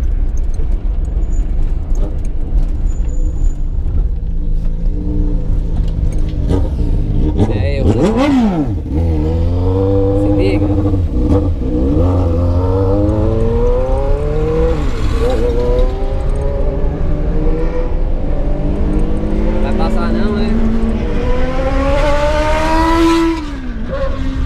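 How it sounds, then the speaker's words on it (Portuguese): A Honda Hornet motorcycle revs and accelerates hard nearby, its engine note sweeping upward again and again in loud, rising surges with brief drops between them. "fica botando de giro, fazendo barulho, chateando geral"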